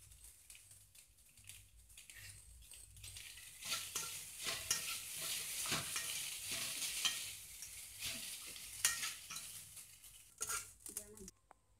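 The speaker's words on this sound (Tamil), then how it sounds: "இப்போ நம்ம ஊற்றி வச்சுக்கிற இட்லியெல்லாம் போட்டு நல்லா கிளறி எடுத்துக்கோங்க" Idli upma being stirred in a hot pan, a steady scraping and sizzling with clinks of a spoon against the metal, continuous and close, growing busier midway with no talking over it.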